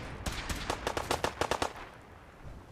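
Rapid automatic gunfire from the video game Fallout 4: a dense burst of about a dozen close, sharp shots over roughly a second and a half, then quiet.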